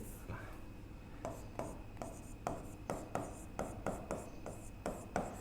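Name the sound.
writing by hand, correcting written text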